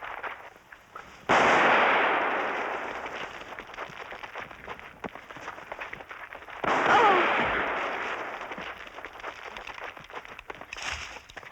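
Two loud gunshot-like blasts in a film chase, one near the start and another midway, each decaying slowly into a noisy, rumbling background with a faint third burst at the end.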